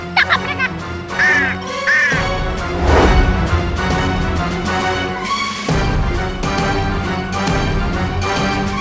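Crow caws from a black cartoon bird ring out in quick calls over a busy animated soundtrack with music and crashing effects, the caws brief and partly masked by the dense score.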